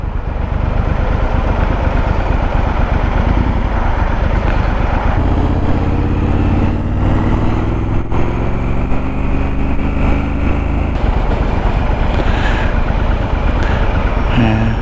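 A Triumph Scrambler 1200 XE motorcycle's engine pulls hard under acceleration, loud and continuous with rising revs, plus steady wind rush throughout.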